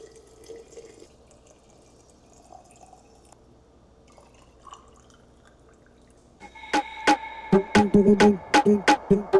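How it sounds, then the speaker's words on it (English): Strained homemade bone broth is poured into glass mason jars: a quiet low trickle for several seconds, then a sharper run of splashes, drips and glassy clinks toward the end, with no talking. "now I'm gonna fill up all of my mason jars and then let this cool completely"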